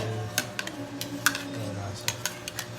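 A spoon stirs chicken adobo with garlic and onion in a metal pot, making scattered clinks and scrapes at an irregular pace, fairly quiet and close, over a faint low hum.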